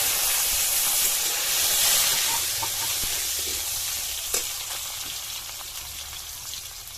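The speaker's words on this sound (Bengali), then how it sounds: "আলু ভেজে নেব।" Potatoes fry in hot oil with a loud, steady, close hiss and sizzle that fades slightly over time, with no voices.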